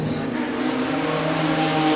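A production sedan spins out on a clay speedway track, its engine droning and revving steadily and loudly throughout, with a brief high squeal at the start.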